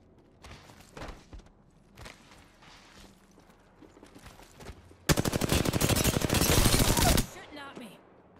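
Gunfire in the video game Apex Legends: scattered single shots and thuds, then a loud sustained burst of rapid automatic fire lasting about two seconds before stopping.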